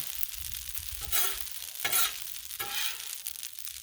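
Shrimp scampi sears on a Blackstone griddle, a steady close sizzle with three louder hissing surges as the shrimp are stirred and turned on the hot flat-top.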